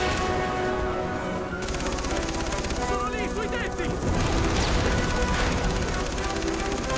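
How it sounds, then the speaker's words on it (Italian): Rapid bursts of Far Cry 3 video game gunfire crackle continuously over a dense, loud background of engine rumble and effects, with excited voices faintly mixed in. "Riley, ci sparano."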